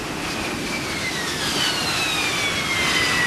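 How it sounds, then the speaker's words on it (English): Harrier single-engine V/STOL jet with a steady, loud turbine roar and a high descending whine throughout, no voices present. "This high-performance single-engine jet is capable of V-stall, vertical or short takeoff and landing."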